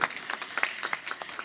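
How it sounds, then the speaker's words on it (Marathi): Scattered applause from an audience at a village drama competition, a brief burst of separate claps with uneven rhythm, moderately loud and fairly close. "धन्यवाद सागरबाईसाठी मोठ्याने टाळ्या होऊ द्या"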